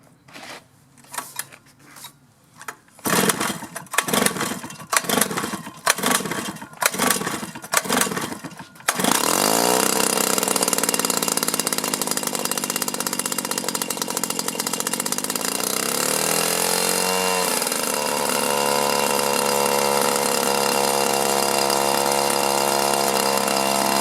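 A small two-stroke engine on a trimmer, chainsaw or blower is cranked with about seven sharp pull-cord tugs, then catches and settles into a loud, steady, buzzing idle that holds close and constant to the end.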